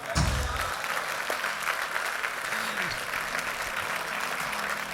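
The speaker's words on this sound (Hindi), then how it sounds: "और ये जो आपकी तारीफों भरी तालियां हैं, इसके लिए बहुत बहुत बहुत आभार।" An audience at an inaugural speech event applauds steadily, with a thick, sustained wash of clapping after a brief low thump at the start.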